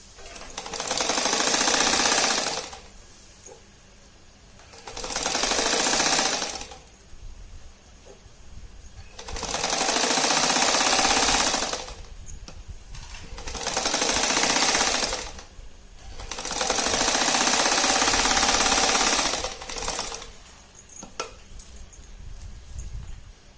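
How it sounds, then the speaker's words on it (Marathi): Domestic sewing machine stitching two fabric pieces together for a twin pouch, running in five whirring bursts of a few seconds each with short quiet pauses between them, close and with no talking. "ते दोघी तुकडे असे शिवून घ्यायचे."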